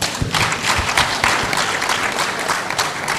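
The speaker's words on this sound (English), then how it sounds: "Please join me in thanking this very eminent panel" An audience applauds a panel of speakers at an assembly, dense steady clapping from a crowd close by filling the whole stretch without voices.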